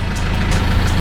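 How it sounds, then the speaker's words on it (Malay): A 4x4 car engine idles steadily close by, a continuous low rumble with a faint knocking pulse and no talk over it. "Sorry kalau bunyi enjin, saya tak tutup enjin kereta."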